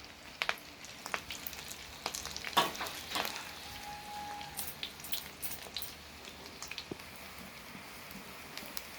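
Eggs fry in a pan, a faint continuous sizzle with scattered pops and clinks, quiet and alone with no voices.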